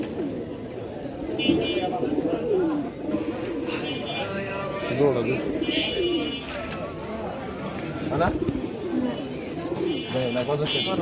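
Many pigeons coo in overlapping, repeated calls amid a busy crowd at a pigeon market in Ruhitpur, with people talking and bargaining nearby and bird chatter throughout.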